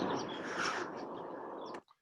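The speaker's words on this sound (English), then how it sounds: "That is a sound of a hawk stooping right over the microphones and into a group of" Feathers of a hawk stooping low over field microphones into a flock of shorebirds in the Alaskan wilderness, a sustained rushing jet-like whoosh that cuts off abruptly.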